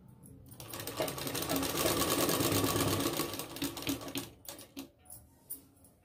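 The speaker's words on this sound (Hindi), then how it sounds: "तो बाजू में सिलाई लगाते हैं" A sewing machine stitches the seam of a cold-shoulder sleeve, running in a steady, close, loud burst for about three seconds, then stopping and starting in short, uneven runs as the fabric is repositioned.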